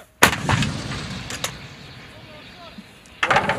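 An M119 or M777 howitzer fires during a field artillery live-fire exercise. Two loud, sharp booms sit about three seconds apart, each followed by a rumbling decay, with faint voices between them.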